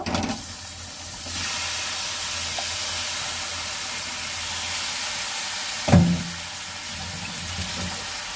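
Chicken pieces added to spice paste in a hot pan with potato and Malabar spinach, a continuous even sizzling hiss with a sharp louder burst of frying midway.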